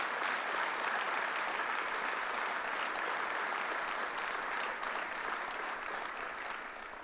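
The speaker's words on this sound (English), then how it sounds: "let's give Philip Morris and Proctor's a big round of applause." An audience at a state government announcement event in Schenectady applauds steadily and loudly, a dense continuous clapping that carries on throughout and only slightly fades near the end.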